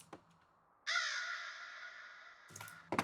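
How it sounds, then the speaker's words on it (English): A single drawn-out, raspy crow caw used as a sound effect in a song's pre-chorus holds for nearly two seconds, loud and close, with brief faint noises at the start and end. "There is a crow,"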